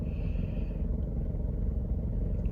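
A car's engine hums with a steady low rumble, and road noise runs continuously from inside the moving vehicle.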